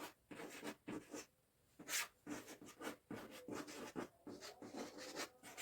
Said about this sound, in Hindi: यहाँ हम लिखते हैं